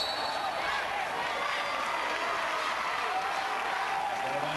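At a 2012 WIAA 4A boys basketball championship game, a large crowd applauds and cheers in a dense, continuous roar, with a voice talking over it.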